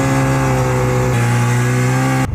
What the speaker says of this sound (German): Das ist ein Zweitaktermotor.